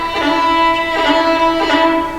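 A bowed fiddle playing a sustained Irish melody decorated with quick, rippling ornamental rolls that recur every half second or so.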